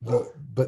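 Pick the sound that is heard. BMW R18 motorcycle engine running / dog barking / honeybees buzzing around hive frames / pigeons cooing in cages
dog barking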